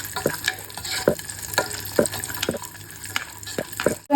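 Raisins frying in a pan for makhana kheer: a steady close sizzle with regular sharp clicks of a spoon stirring against the pan every half second or so, no talking.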